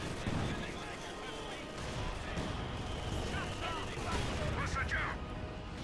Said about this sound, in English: Enemy is firing on our HQ.